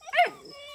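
A tiny Redbone Coonhound puppy lets out a single short, high yip, close and clear, trailing into a faint whine.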